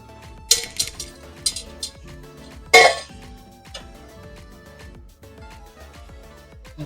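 Shrimp dropped back into a pan of Alfredo sauce: a few quick metallic clinks and scrapes of utensil on pan, then a louder clatter, over soft background music.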